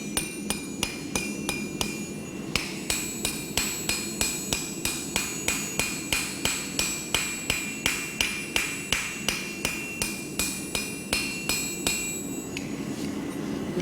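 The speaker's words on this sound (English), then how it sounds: "I'm going to take this chipping hammer and just go around the outer edge" A chipping hammer strikes the outer edge of a forged metal garden gate in a steady series of sharp, ringing taps, several dozen quick blows close up with no one speaking.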